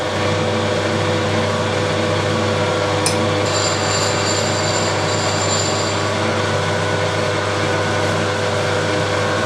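A homemade ball end cutter machining a casting for a dividing head, giving a steady broadband grinding drone with a sustained high whine, loud and continuous with no talk.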